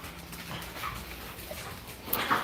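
A Boston terrier whimpers faintly a few times, with soft high whines rising near the end over quiet room noise.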